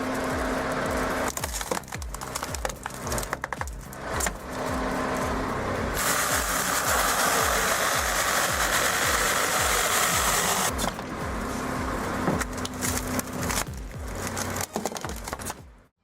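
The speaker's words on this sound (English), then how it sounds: "This is a vertical log splitter that saves space and can split logs taller than half a person." A vertical log splitter driven by a tractor engine drones steadily throughout, with rapid rhythmic mechanical knocking and a louder hydraulic rush in the middle, close and loud with no voices.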